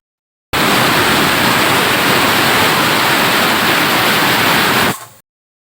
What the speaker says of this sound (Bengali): ঢেকে দিয়ে চারটা হুইসেল দিব